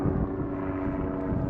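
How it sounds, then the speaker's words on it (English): A black helicopter flies overhead near a giant building on a mountain, producing a steady, loud rotor and engine drone that holds constant throughout with no speech. "got myself a black helicopter already"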